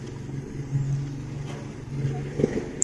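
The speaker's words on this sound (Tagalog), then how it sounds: "pasensya na sa ingay ng tricycle" A motorized tricycle engine drones past on a Philippine street, a steady low rumbling hum with a slight swell midway, fairly loud and close throughout.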